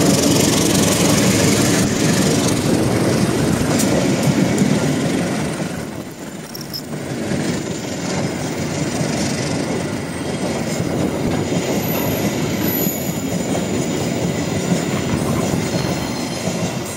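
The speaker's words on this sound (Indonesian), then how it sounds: "lokomotif CC204 double traksi membawa kereta api Ketel Pertamina" A heavy train of Pertamina tank wagons pulled by two CC204 diesel locomotives rumbles past nearby, engines droning, wheels clattering on the rails and squealing faintly as the wagons roll by.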